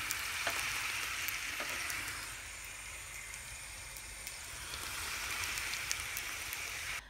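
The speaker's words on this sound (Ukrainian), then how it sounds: "Чи смажимо з сиром чебуреки?" Cheese-filled cheburek pastries fry in hot oil with a continuous soft sizzle and crackle, close but fairly quiet, and nobody speaks.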